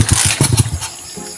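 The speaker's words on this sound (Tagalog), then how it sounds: "Kani mau ni motor." A motorcycle engine runs close by in uneven, sputtering revving pulses that ease off toward the end, heard without any talk.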